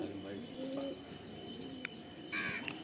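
Home-bred breeder pigeons in a loft give soft, faint coos with a few brief chirps, set against quiet background noise and a short burst of hiss near the end.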